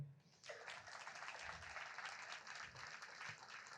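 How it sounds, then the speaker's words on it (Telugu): An audience at a talk breaks into applause: a dense, even wash of many hands clapping starts after a brief quiet moment and carries on steadily, sounding somewhat distant and soft. "ఇవాళ ఆయన కోసం చప్పట్లు కొడదాం"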